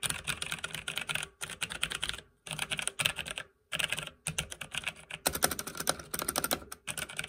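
Clicky mechanical typing on a Logitech G413 keyboard, fast bursts of keystrokes broken by short pauses, close and fairly loud with no talking.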